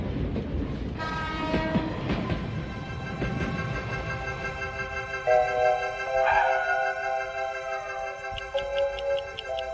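A cartoon train in an animated Ninja Hattori episode rumbles and clatters along the rails, with sustained horn-like tones and a rapid series of short whistle toots near the end, with no voices.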